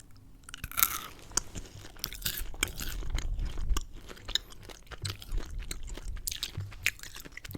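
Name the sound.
chewing sour gummy candy, ASMR candy eating mukbang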